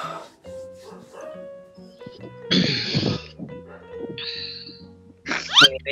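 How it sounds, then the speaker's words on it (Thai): A dog barks in a few short, rough bursts, mixed with throat-clearing noises and people talking nearby in an online Free Fire game voice chat. "เธอได้ยินเสียงหมาเห่าไหม"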